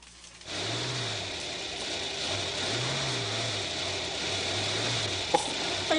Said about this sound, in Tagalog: Nabuglawan siguro ang makina.